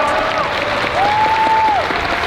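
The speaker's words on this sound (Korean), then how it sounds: "박수 한번 부탁드리겠습니다." Audience applause at a Black Combat 13 MMA event in Korea, a short burst of clapping from the crowd that sounds fairly loud and close, with an announcer's voice running over it.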